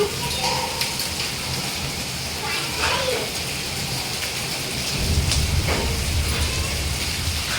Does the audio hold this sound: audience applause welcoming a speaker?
no